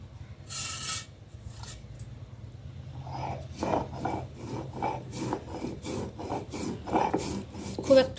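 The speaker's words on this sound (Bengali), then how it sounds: "বাটতে চলে এলাম, পোস্তটা একটু বেটে নেব।" Poppy seeds and ginger ground by hand on a grinding stone: a rough rasping rub at first, then a steady run of rhythmic, close scraping strokes that grows louder toward the end.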